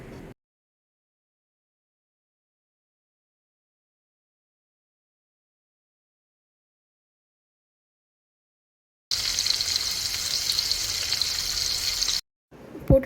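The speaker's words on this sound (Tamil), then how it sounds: "எண்ணெய் ஊற்றிட்டு ஒரு ப்ரானாக வந்து நீங்கள் போடுங்க." Prawns hit hot oil on a flat tawa and give off a loud, steady hiss and sizzle that lasts about three seconds after a long stretch of silence, then cuts off abruptly.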